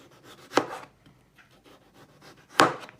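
A knife cuts through food on a board in a home kitchen, two crisp, sharp chops about two seconds apart with faint rustling between them.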